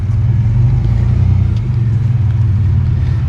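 A 1992 GMC Sonoma GT's 4.3 CPI engine runs steadily close by, a deep continuous rumble with slight rhythmic wavering in its idle, holding loud and even throughout with no talk over it.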